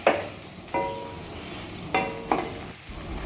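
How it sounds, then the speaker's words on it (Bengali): A spoon stirs cooked sago in a pan on a gas flame, with a few distinct scraping strokes and light clinks over a soft background hiss, close and fairly quiet. "এবার ভালো করে একটু নাড়াচাড়া করে গ্যাসের ফ্লেমটা এবার অফ করে দিচ্ছি"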